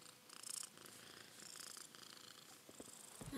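Purring of a cat in Animal Crossing New Horizons, a faint, steady soft rumble running through the short stretch with a few light clicks and no voices.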